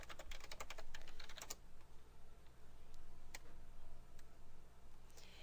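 Fingers type a username and password on a computer keyboard, a rapid close burst of key clicks at the start, then a few scattered single taps over a low steady room hum.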